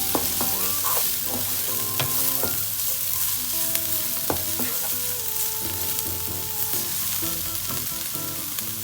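Cooked rice with vegetables stirred and fried in a pan, a continuous sizzle under repeated spatula scrapes and clinks, close and steady.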